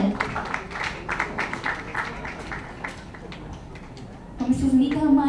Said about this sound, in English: Please, a huge applause for him as well.